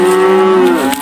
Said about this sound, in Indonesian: wah di sini ada suara sapi lagi